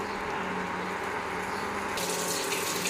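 Water pours steadily into a cooking pot with potatoes for a small-fish curry, a continuous gushing splash that grows brighter and fuller near the end, close and alone.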